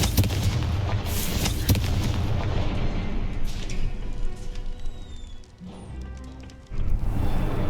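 Explosions from the Confringo fire spell in the Hogwarts Legacy video game, repeated booming blasts over dense game noise that thin out partway through before a final loud burst.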